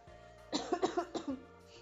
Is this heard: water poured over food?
no